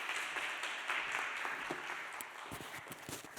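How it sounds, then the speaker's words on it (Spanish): Audience applause for a president at a talk on Banksy, a sustained crowd clapping that stays fairly even and slowly tapers, with a few sharper individual claps near the end. "Un aplauso para nuestro presidente."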